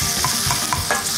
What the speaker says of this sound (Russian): доводим бекон до золотистого цвета